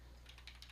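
Faint, quick keystrokes on a computer keyboard tap in a brief irregular run over a low steady hum.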